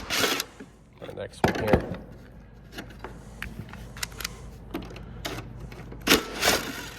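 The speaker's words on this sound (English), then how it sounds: "let's go ahead and remove these bolts here" Bolts being removed from the mulching plate of a Honda HRX 217 push mower, heard as scattered metallic clicks, scrapes and clunks of tools and parts close by, with someone talking over them.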